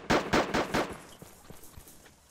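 Gunfire in a video game assault on the Elektro fire station base: a quick close burst of four or five loud shots, then several fainter, scattered shots trailing off farther away.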